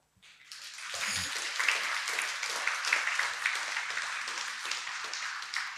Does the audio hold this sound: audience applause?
yes